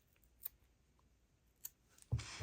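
Scissors snip crochet yarn beside a baby hat being made, giving two small, quiet cuts close by and then a louder rustling handling noise at the end, with no talking.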